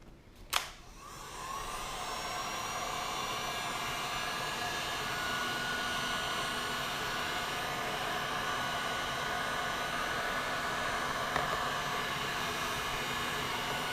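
Heat gun blowing hot air onto dirt bike graphics, a steady, fairly loud hiss that runs without a break after a brief click at the start.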